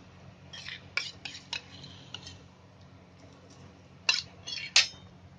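A spoon scrapes and taps against a pan as butter goes in, with several scattered metallic clinks and a few louder knocks near the end over a low steady hum.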